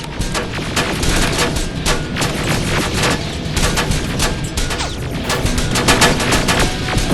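An enemy turret in the video game Terminator: Resistance fires continuous rapid bursts of loud automatic gunfire. The fire rattles without a break throughout, dense and close.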